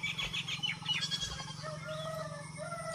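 A goat being led from a cowshed in a village bleats in a few short nasal calls near the start, followed by a steadier wavering cry, with a constant low hum underneath.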